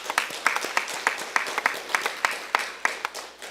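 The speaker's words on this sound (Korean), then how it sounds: "주님께 영광의 박수 하면 좋겠어요." A church congregation applauds together during a Sunday sermon at a Korean church, a dense crowd of clapping with irregular sharper claps standing out, steady and moderately loud for several seconds with no talking.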